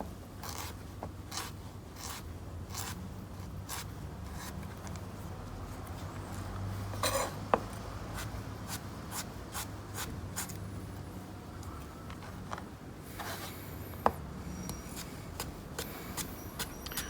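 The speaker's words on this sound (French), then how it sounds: "Le principe est de le couper plus finement possible." A knife on a cutting board slicing a carrot into fine julienne strips, a steady run of quick, crisp taps and scraping cuts, fairly close, with a faint low hum behind and no talking.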